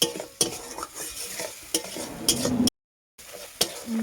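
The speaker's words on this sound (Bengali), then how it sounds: "এটাকে আমি একটু ভালোভাবে ভেজে দিই" Okra and tomato masala fries in a pan while being stirred, with scraping spatula strokes and knocks over a sizzling hiss, broken by a brief silent cut.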